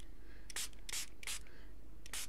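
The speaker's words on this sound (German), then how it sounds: "So, und dann nehmt ihr einfach eine Sprühflasche mit Wasser" A spray bottle of water mists onto paper in four short, bright hissing bursts spaced about half a second apart, close and alone.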